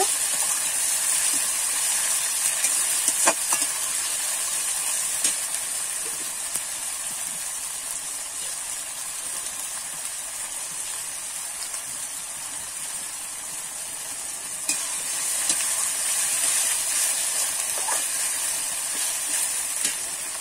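Tomatoes frying with salt in a pan, a steady soft sizzle and hiss running throughout, with a few faint scrapes and clicks as they are stirred now and then.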